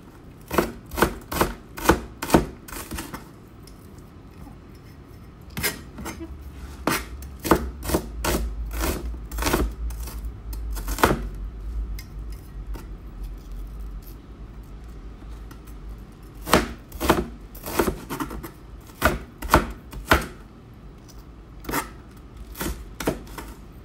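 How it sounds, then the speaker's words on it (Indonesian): A knife chops chili peppers into rounds on a cutting board, with crisp, close knocks in quick bursts separated by short pauses over a quiet background. "Cabenya juga kita potong-potong. Potong-potong bulat."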